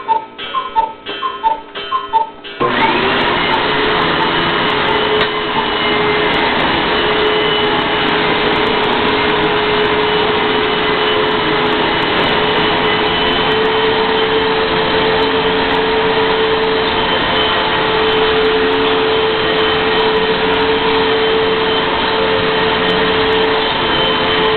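A Hoover fold-away upright vacuum cleaner drones steadily and loudly after a few seconds of clicking and handling, holding a continuous whine and hum to the end.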